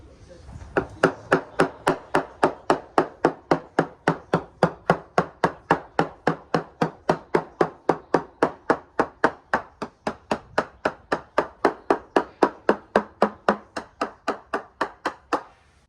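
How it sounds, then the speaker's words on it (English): A balsa-cored boat hull gets a percussion tapping test along its laminate, about forty sharp, evenly spaced knocks in a steady rhythm, close and loud. "So now we're going to percussion test down the starboard side"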